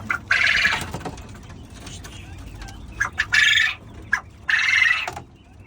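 Young 45-day-old female quail chick, about 450 grams, giving several short, shrill calls in separate bursts at close range, with faint background noise between calls.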